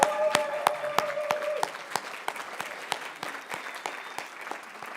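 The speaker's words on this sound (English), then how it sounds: "Let's give them a round of applause." An audience applauding at a charity benefit evening, many hands clapping together in a dense crowd round that starts strong and slowly thins over five seconds, while a single voice speaks briefly over it.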